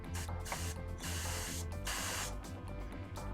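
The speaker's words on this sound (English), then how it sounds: "we're spraying at an angle, so we're hitting here and the overspray is going past the model" An airbrush sprays paint onto an Eldar Skyrunner miniature, giving a continuous close hiss broken by several short pauses and restarts as the trigger is released and pressed again, with no talk.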